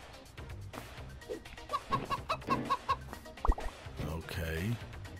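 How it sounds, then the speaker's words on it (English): Cartoonish chicken clucks from the co-op furniture-moving game Moving Out sound as a run of short, evenly spaced clucks over busy game music and effects, with a voice talking over them. "Oh my god, this freaking chicken."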